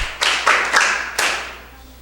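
A few bursts of clapping for a school vice principal at a quiz competition, each burst brief and fairly close, separated by short gaps before fading out.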